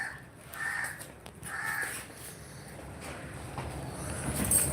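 A crow caws several times in short harsh calls spaced across the clip, moderately near, over a faint outdoor background.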